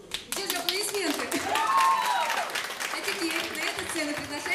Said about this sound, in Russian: Где же аплодисменты?